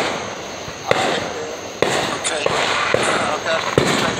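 Independence Day fireworks burst in sharp cracks spaced about a second apart over a continuous crackling hiss, with people talking quietly underneath.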